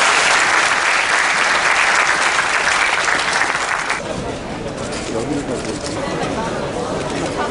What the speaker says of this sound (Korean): 우리 대통령께 뜨거운 박수로